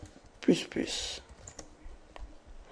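Brief bursts of typing on a computer keyboard, close key clicks clustered near the start and fading after, with a voice speaking around them.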